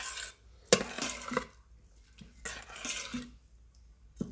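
Spices being stirred into rice inside an Instant Pot, a spoon clinking and scraping against the inner pot in a few quick, uneven strokes with short quiet gaps.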